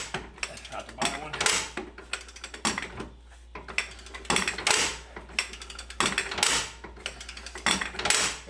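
A ratchet wrench clicks in repeated brisk bursts with short pauses between them while working on a 2WD OBS Chevy Tahoe being lowered. The ratcheting is close and clear.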